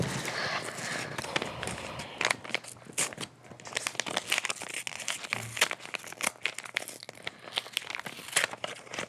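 Paper envelope being handled and torn open during a mentalism show, with close, busy crinkling, rustling and tearing sounds that continue in irregular bursts throughout.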